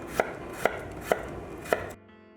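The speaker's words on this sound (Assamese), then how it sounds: "লৈছোঁ এটুকুৰা আদা, পাতলা পাতলাকৈ জুলিয়ান কাটি লৈছোঁ" A knife chops ginger into thin julienne strips on a board, four evenly spaced, crisp thuds close by, then the chopping stops and only faint hum remains.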